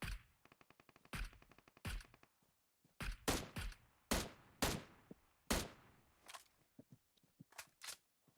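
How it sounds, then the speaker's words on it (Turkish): Gunfire in the PUBG Mobile battle royale game, opening with a rapid automatic burst and followed by scattered loud single shots and short bursts with gaps between them, with no talking. "Nereden vuruyor? Okul tarafından vuruyor"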